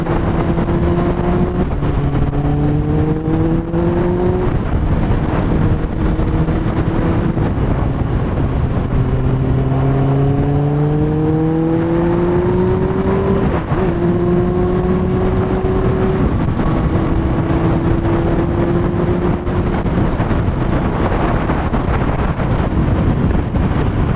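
Kawasaki Ninja ZX6R motorcycle with high mileage riding on a fast road, engine note rising and falling through gear changes, steady loud drone with wind buffeting throughout, no talk.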